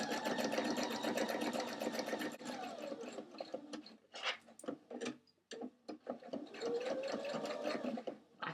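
A sewing machine zigzag-stitches prom dress fabric, running in a close, steady mechanical whir that breaks off briefly midway with a few scattered clicks before resuming.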